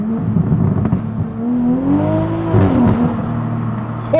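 A Toyota Supra driving in traffic, its engine droning and rising and falling through gear changes, fairly loud and close, with a short whir near the end.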